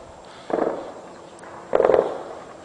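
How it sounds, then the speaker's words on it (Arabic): Two muffled blasts from shelling and gunfire on the town of Khirbet Ghazaleh in Daraa, each a rumbling burst heard at a distance, about a second apart, with no talk over them. "قصف عنيف على البلدة."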